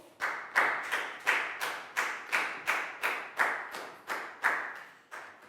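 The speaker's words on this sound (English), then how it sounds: "And a final round of applause for everybody for doing a great job." Pupils in a Year 4 class give a final round of applause, a dozen or so regular, close-sounding claps repeating at an even pace for several seconds, with no voices.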